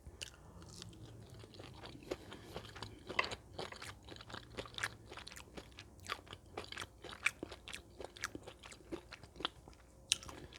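Fried catfish with grits being eaten up close, sharp crunchy bites and wet chewing in an irregular stream of crisp clicks, quiet and intimate with no talking.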